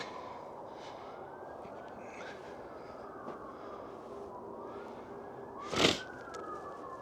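Far-off sirens from a freeway wail faintly across a quiet night in the woods, their slow rising and falling tone drifting beneath a brief louder noise close by.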